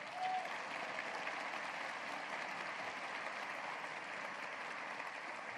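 An audience at a university address applauds an honoree who stands, a soft, distant, even wash of clapping that continues steadily throughout.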